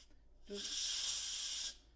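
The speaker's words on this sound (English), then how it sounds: "So now the steam is being released." Steam vents from an Instant Pot pressure cooker in a single strong, even hiss lasting just over a second, close by, after a brief faint tone at the start.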